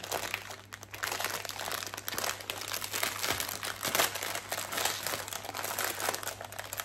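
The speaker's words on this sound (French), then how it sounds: "le bruit du papier." Paper crinkles and crackles continuously at close range as an item is unwrapped, a busy, steady rustle with no talk over it.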